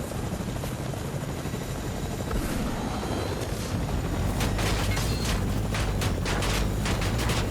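A helicopter in the video game Fortnite gives off a steady, loud rotor drone with a deep low throb that builds and thickens over the second half. Gunfire-like bursts cut in near the end, and there is no talk.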